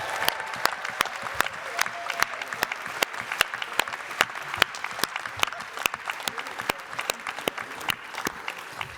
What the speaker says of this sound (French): Je vous demande un tonnerre d'applaudissements pour le service branche